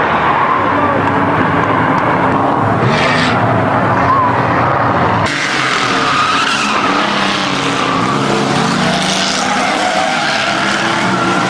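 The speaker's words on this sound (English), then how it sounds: "Jerry Lee Barnes spins going into turn 1." A race car spins out going into turn 1 during a weekly feature race, with loud, sustained tire squeal and skidding over roaring engines, while an announcer talks throughout.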